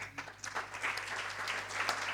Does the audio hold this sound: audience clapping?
yes